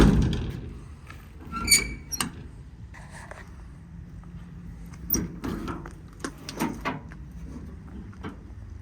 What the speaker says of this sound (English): All the doors close, latch, lock, and seal as they should.